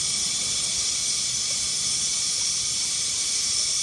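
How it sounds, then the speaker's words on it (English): Steam hisses steadily through a Delta Venturi steam trap with a glass window in its top cap, a constant close and fairly loud rushing noise with no pauses. "we'll see that there's more steam now reaching the trap"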